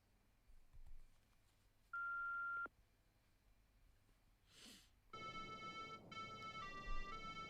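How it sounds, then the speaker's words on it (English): A familiar melody plays on a voicemail in the Chaos;Head NoaH visual novel, opening with a single steady beep tone and then moving into a bright, clean electronic tune of sustained notes after a short pause. "Instead of someone's voice, it was an incredibly familiar melody"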